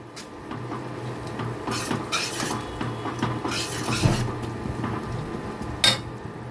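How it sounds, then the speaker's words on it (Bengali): Ground cumin and coriander powder fry in a pan as a spoon scrapes and stirs continuously over a low, dry sizzle, with occasional sharper clinks of utensil on metal. "এখন এই শুকনো মশলাগুলোকে আমি একটু কষিয়ে নেব"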